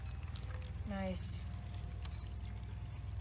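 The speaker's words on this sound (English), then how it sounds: "you're going to want to take the water and you're just going to want to pour it in" Water poured into a small dish of spread-out rocks, set up as a butterfly drinking station, giving a brief close splash and trickle under a steady low background hum, with a short spoken word from a person.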